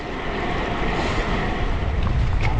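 Strong wind buffets the microphone while cycling on a road trip under clearing stormy skies, producing a loud, continuous roar with no voices.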